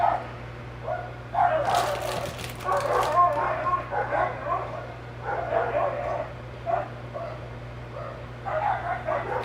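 Several dogs barking and yipping outdoors, bursts of bow-wow barks repeating in irregular clusters over a steady low hum, fairly near and moderately loud.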